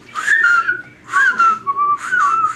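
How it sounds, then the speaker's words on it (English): A group whistles a cheerful tune in three clear phrases separated by brief pauses, the melody loud and close without any singing or speech. "Just purse your lips and whistle, that's the thing."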